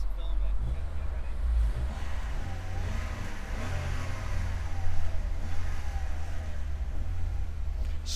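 A K11 Nissan Micra with about 60 bhp drones steadily in a slow drag race, its low engine note and road rumble continuous and fairly close, with people talking over it.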